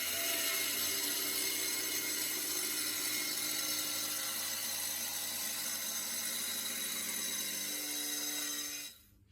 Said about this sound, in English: This ceramic diamond cutting disc should work well on my angle grinder.